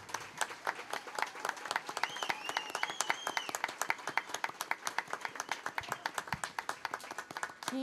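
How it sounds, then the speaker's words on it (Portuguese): Audience applause at a regional Catholic family ministry congress, a steady stretch of fairly distinct claps at moderate distance and low volume, with a brief whistle or cheer partway through. "Uma salva de palmas para Dom Ricardo."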